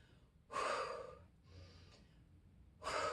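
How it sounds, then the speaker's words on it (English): Heavy, winded breathing after a set of dumbbell bicep curls: two sharp, loud gasping breaths separated by a softer exhale, close to the mic with no talk. "I think I'm more out of breath on this last set than the first two sets at this point"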